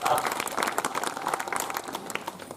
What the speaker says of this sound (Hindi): ताली बजा दी एक साथ